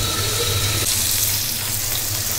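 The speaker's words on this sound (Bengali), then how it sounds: "এখানে শুকনো মরিচ ভেজে নিচ্ছি।" Dried red chillies fry in a pan, giving a steady, close sizzle with a watery hiss that runs unbroken through the whole moment, with no voices.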